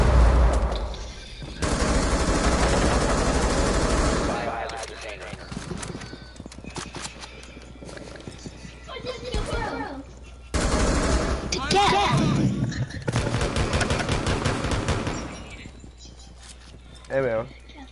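Gunfire in a video game, heard as bursts of rapid automatic shots and single cracks at close range, mixed with voices talking over it.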